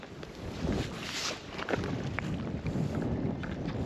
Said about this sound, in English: It's howling this wind.